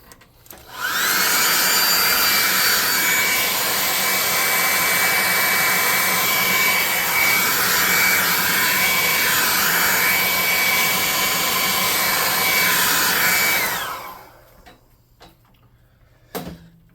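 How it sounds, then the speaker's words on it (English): A hairdryer runs on paint spread over cardboard, a loud, steady whir that starts abruptly, holds constant for about thirteen seconds and then cuts off, leaving a quiet room with a couple of light knocks. "we're going to hit that with a hairdryer"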